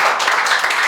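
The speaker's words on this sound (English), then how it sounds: "Please clap for it." A classroom audience claps for a student at a class leader election, a brief dense patter of many hands, loud and close with no voices.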